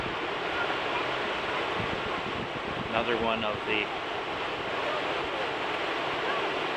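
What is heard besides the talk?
water rushing over a weir on the Humber River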